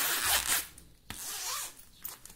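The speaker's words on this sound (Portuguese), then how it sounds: "Não é só com vocês que acontece do zíper não entrar." A zipper on a backpack being sewn is pulled in several short rasping strokes, close and fairly quiet, with brief pauses and a sharp click between them.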